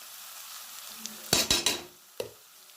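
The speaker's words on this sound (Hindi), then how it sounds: "तो दोस्तों मसालों के साथ साथ थोड़ा सा भूनेंगे" Spices roasting in a pan with a faint sizzle, broken by a few sharp metallic scrapes and clinks of a spoon against the pan, close and without speech.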